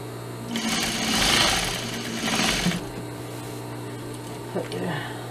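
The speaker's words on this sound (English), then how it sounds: "And then I'm going to go serge it so it doesn't fray." A serger sewing machine finishing the pocket seams of a pleated fabric skirt runs in two fast whirring bursts, close and steady, then stops, leaving a low hum and a small click.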